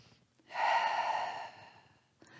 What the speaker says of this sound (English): Pausing for a breath.